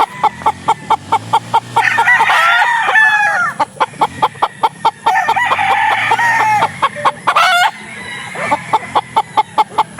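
Tornado and Butcher gamefowl roosters crow loudly and up close on a farm, with two long crows and the start of a third over a fast, steady run of clucks and wingbeat-like knocks.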